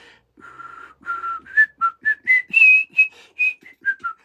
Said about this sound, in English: I'm always whistling